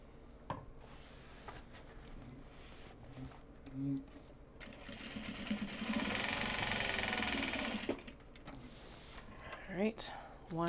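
A sewing machine runs in a steady whirring burst for a few seconds while stitching seams on a project bag made from Japanese fabric, with handling noises and a voice before and after.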